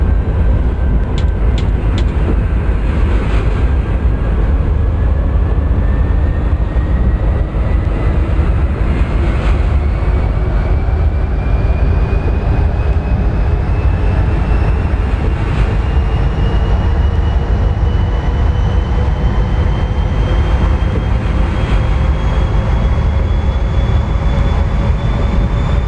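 A Pennsylvania Railroad Santa Fe Express train in the OpenRails simulator runs at speed with a steady, loud rumble and rolling noise throughout. A faint tone slowly rises in pitch as it accelerates.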